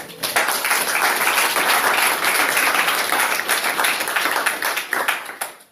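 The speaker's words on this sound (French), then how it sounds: "Applaudissons pour le Seigneur." Sustained applause from a church congregation during a worship service, steady dense clapping that fills the space for several seconds before tapering off at the end.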